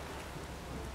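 Rain while sailing in the video game Witcher 3, near Skellige: a dense, even downpour hiss filling the whole moment with no talk.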